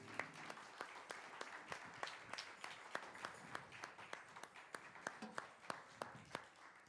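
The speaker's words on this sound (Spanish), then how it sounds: "Denle un fuerte aplauso al Señor" A church congregation claps in a steady, rhythmic beat, a regular series of sharp hand claps heard faintly from a distance, with no talking over it.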